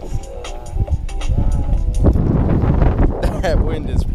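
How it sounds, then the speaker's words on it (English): Strong wind gusts buffet the microphone while kayak fishing on open water, a steady broadband roar that swells after the first couple of seconds, mixed with faint clatter and soft background voices. "That wind is whipping."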